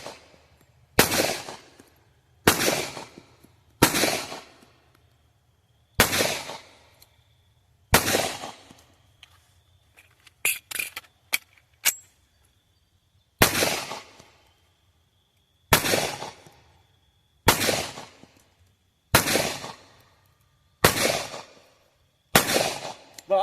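Gunshots from a Centurion 11 firearm fired one-handed ring out as about a dozen loud, sharp cracks at a slow, steady pace, each with a short decaying tail. A quick cluster of fainter mechanical clicks and taps falls midway.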